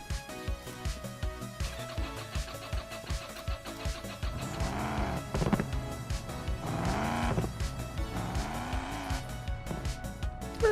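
A twin-turbo car engine revs repeatedly from close by, with rising and falling pitch sweeps in three or four pulls that grow louder, over a backing of music.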